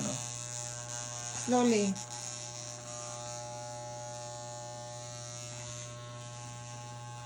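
A child runs an electric hair clipper over a man's head. A steady, close buzzing hum persists throughout, briefly strained and louder as it cuts, with a voice speaking once.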